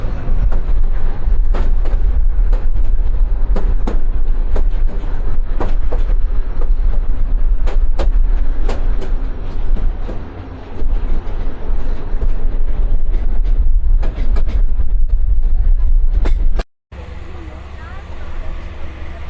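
Inside a meter gauge passenger train running from Dinajpur to Lalmonirhat, a constant loud rumble of wheels and carriage with sharp rattling clicks, people talking over it, and a sudden drop and shift near the end.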